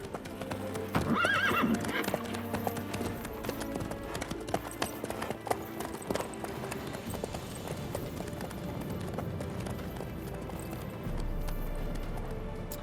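Horse from The Witcher 3: Wild Hunt video game, hooves clopping steadily under a sharp whinny near the start, set against a busy in-game ambience with music throughout.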